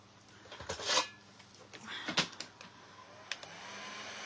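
A hair dryer blows over a painted wooden chicken sign, a soft airy whoosh interrupted by a few louder bursts and knocks as it moves, then a steady quieter hiss.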